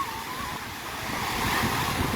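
Ocean surf and strong wind sweep across Boracay beach, a steady broadband rush of waves with gusting wind noise on the microphone, growing slightly louder toward the end.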